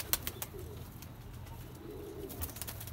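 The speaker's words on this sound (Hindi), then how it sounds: "ये देखो, ये बड़ी कबूतरी घर की" Soft, low cooing of pigeons close by, quiet and intermittent, with light scratchy rustles and a few faint clicks.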